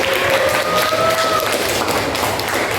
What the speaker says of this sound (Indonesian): tepuk tangan untuk Selfie